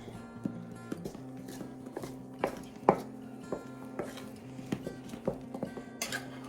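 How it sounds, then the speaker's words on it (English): Dessert ingredients are mixed by hand in a bowl, giving repeated knocks and clinks of a utensil against the bowl in an uneven rhythm, close by and fairly quiet, over a low steady hum. "We're going to mix all this up together."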